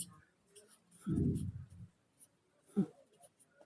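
A pen or pencil scratches out a math solution on paper in a few short, faint strokes, with quiet speech around it.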